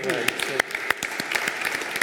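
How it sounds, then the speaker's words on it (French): An audience applauds at a France–Italy business forum in 2022, a steady wash of clapping with sharp individual claps popping out, while a voice keeps talking over it. "si vous en êtes d'accord, on pourrait applaudir Fabrizio."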